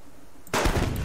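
A sudden loud burst of video game gunfire cuts in after half a second of quiet, sharp and close, then rings on briefly.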